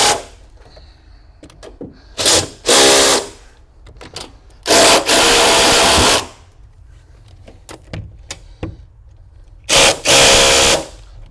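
An impact or power driver tightens anchor bolts holding a gun safe to a concrete foundation, in several loud separate bursts of whirring, each lasting about a second or more, with quieter clicks and handling sounds between them.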